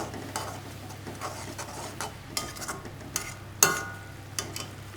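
Quiet bubbling and simmering from a pot of sukku milagu kuzhambu, a dry ginger and pepper curry, with scattered spoon scrapes and clinks against the metal over a low steady hum.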